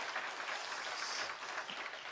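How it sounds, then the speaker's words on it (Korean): A church congregation applauds during a Sunday evening service, a brief burst of steady, moderately distant clapping without speech. "박수도 다시 한번 하겠습니다"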